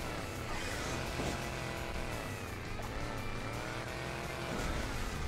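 A sports car in Hill Climb Racing 2 drives steadily in a desert cup race, its engine droning loud and continuous with wavering pitch throughout.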